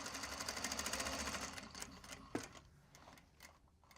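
A sewing machine stitches a Japanese fabric Kato drawstring bag, running in a fast, steady chatter before slowing and stopping, then giving a few isolated clicks and knocks, close and clear.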